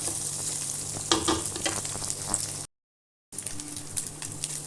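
Ginger sautéing in a pan, a close, steady hiss and crackle of frying oil with a few sharper pops, briefly cut to silence partway through before the sizzle resumes.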